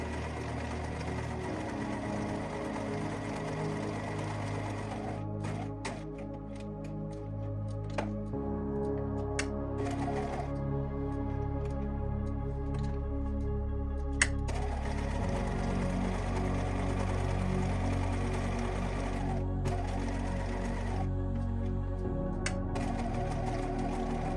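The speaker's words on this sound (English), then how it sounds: "we're just going to take our back trouser to the machine and sew through all layers along the rectangle guideline we have" A sewing machine stitching through all the layers of a back trouser piece along a rectangular pocket guideline: a steady close mechanical whir with rapid needle chatter, pausing and restarting several times.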